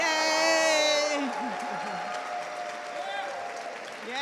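Crowd applause and cheering at a state house rally, a loud whoop fading into steady clapping with scattered shouts over the hall.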